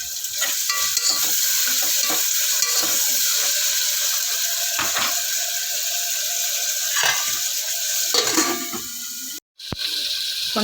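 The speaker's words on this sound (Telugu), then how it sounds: "ఆనియన్ మగ్గింది కాబట్టి టమాటా వేసుకున్నాం." Onion and tomato fry and sizzle loudly in a pan while being stirred, with steady crackling throughout and scraping strokes of a utensil, plus a brief gap near the end.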